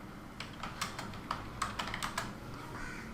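Rapid clicking keystrokes on a computer keyboard while Hindi text is typed, an irregular burst of about a dozen sharp taps at close range, with no voices.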